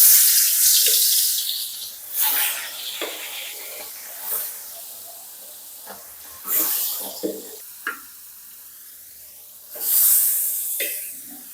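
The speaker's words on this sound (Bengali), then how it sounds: "কড়ার তেল ভালোভাবে গরম হয়ে গেছে, তো আমি মাছগুলো এবারে দিয়ে দেবো।" Catfish pieces dropped into hot oil in a kadai, bursts of loud sizzling and hissing that flare up several times and fade back to a quieter crackle between them.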